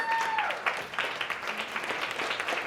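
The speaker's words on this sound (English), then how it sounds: "give you all a round of applause" A crowd applauds steadily, dense clapping sustained throughout at moderate volume, with a faint tone fading out at the start.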